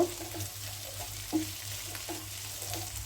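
Fried bitter gourd and potato being stirred with roasted cumin powder, a low steady sizzle with soft periodic scrapes and taps of the spoon in the pan.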